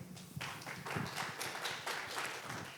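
Audience applause at a startup awards event in Korea, a fairly quiet wash of many hands clapping steadily, with no voices over it.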